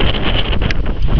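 Cold wind buffets the microphone on a beach boardwalk at Southampton Beach, a loud, steady rumbling roar with no break through the short stretch.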